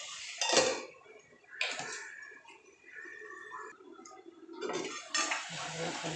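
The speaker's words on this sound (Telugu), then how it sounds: "సాల్ట్ వేసాక ఒకసారి కలిపి బాగా మూత పెట్టుకుందాం" Rice in a pot is mixed with a spoon and then covered with a lid, making a few close metallic clinks and scrapes in short bursts against a quiet background, with no voices.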